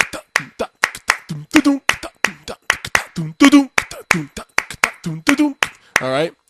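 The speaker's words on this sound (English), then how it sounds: "I'm going to clap the clave to it." Sharp hand claps beat out a 3-2 clave pattern, three claps then two, repeated several times in a close, dry, even rhythm with spoken words between the phrases.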